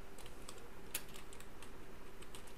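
Soft keystrokes tap irregularly on a computer keyboard, faint and close, with one sharper click amid a steady low background hum.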